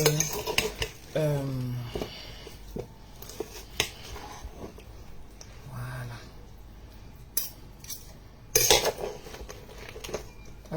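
A small warm salad is tossed in a bowl, with utensils clinking and scraping against the dish in short, irregular bursts, close by, between quieter pauses and brief moments of talk.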